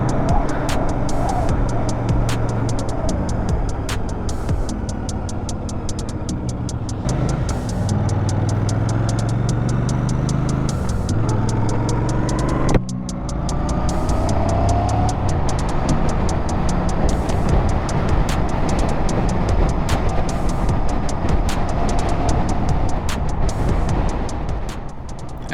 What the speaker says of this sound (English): Definitely got a punchy motor, this 650.